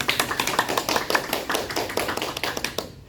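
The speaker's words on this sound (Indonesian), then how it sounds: "Tepuk tangan untuk Niken" A small classroom group claps for a student, a quick, somewhat uneven run of sharp, close hand claps that carries on for a few seconds and then stops abruptly.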